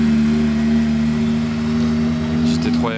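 A Porsche GT3 RS phase 2 drives by on a winter street in Monaco, a steady low engine hum under nearby talk that builds toward a short rising rev at the end.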